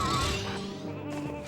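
A single sheep bleat from the Black Sheepinator weapon in the video game Ratchet & Clank: Going Commando, a loud, close, wavering cry that tails off over a second and a half.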